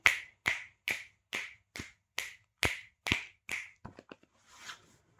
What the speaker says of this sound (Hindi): फिर प्रत्येक दिशा में चुटकी बजाते हुए न्यास करें।